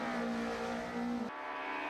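A closed-wheel four-wheel-drive rallycross car racing, its steady engine drone loud and close with a sustained tonal whine that cuts off abruptly partway through, leaving a quieter residual roar.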